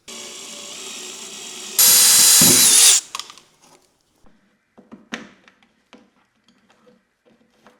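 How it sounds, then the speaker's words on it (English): A power drill drilling out old latches on a Polaris 6x6 whirs for a few seconds, rising to a loud high-speed burst, then stops, followed by scattered clicks and knocks. "Just got to drill out these old ones."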